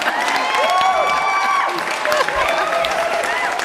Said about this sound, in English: Round of applause for Andrew and all our experts this afternoon